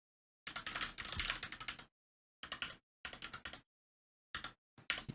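Typing on a computer keyboard while configuring Juniper switches, close, rapid bursts of key clicks separated by short silent pauses, one long run followed by several shorter ones.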